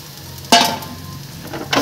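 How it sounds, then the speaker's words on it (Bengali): Water is poured into a hot kadai on the stove and hits it with a sharp, bright sizzle, then a second hiss follows a moment later. No one speaks. "কড়াই বসিয়ে দিয়েছি, কড়াইতে আমি জল দিয়ে দেবো"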